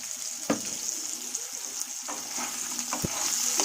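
Potatoes frying in a small amount of oil for a cabbage dish: a steady soft hiss with a few sharp clinks of stirring, fairly quiet and without voices.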